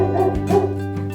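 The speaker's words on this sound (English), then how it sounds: "Dog." A dog gives a couple of short, close barks and yips with a whimpering, tonal edge, loud and alone over a steady hum.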